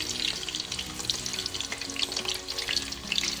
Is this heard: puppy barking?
no